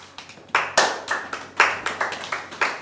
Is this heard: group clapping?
yes